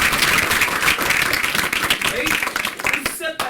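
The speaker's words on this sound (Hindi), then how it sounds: "तालियां बजनी चाहिए।" A workshop audience claps together in a dense, steady burst of applause, with voices and crowd murmur mixed in, thinning out near the end.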